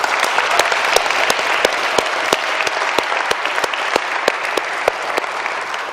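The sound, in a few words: applause for volunteers and organizers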